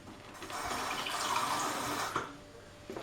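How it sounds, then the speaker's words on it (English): Water runs from a kitchen tap into a glass, a soft steady splashing rush for about two seconds that then stops, quiet and close. "I want a glass with some water in."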